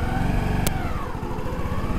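A motorcycle engine idles close by with a rough, rapid putter, steady and loud over two seconds, as the motorcycle is moved indoors.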